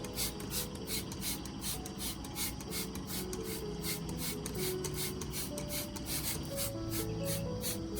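A hand spray bottle mists solution onto a wilted orchid and its potting medium in a rapid, even series of faint, close squirts over quiet background hiss.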